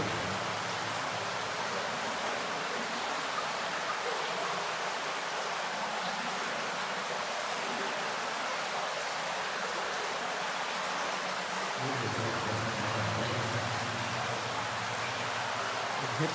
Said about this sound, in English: It hits some of the rocks as it's coming down on the wall. That makes that sound.